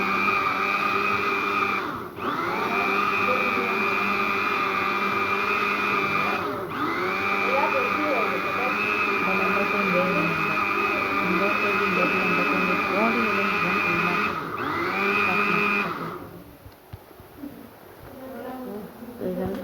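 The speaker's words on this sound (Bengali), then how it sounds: "দেখেন ব্লেন্ডার চালু" A kitchen blender runs loud and close with a steady high whine, briefly dipping three times as the motor is pulsed, then cuts off near the end and leaves quiet room noise.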